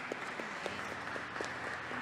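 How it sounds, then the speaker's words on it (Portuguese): A church congregation claps in a short burst of steady, dense applause that fills the room for the whole moment, with no voices standing out. "Uma salva de palmas para o nosso Senhor Jesus Cristo."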